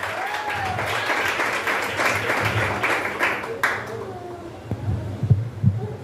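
Congregation applause during a church service, a steady wash of clapping that swells and fades over several seconds, with some voices mixed in toward the end.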